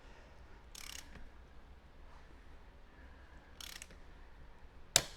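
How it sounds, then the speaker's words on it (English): A torque wrench preset to 54 newton meters tightens a SRAM DUB press-fit bicycle bottom bracket, with two short ratcheting bursts followed by a single sharp, close click at the end, over a quiet room background. "Now I'm going to use my torque wrench, and it's already been set to 54 Newton meters"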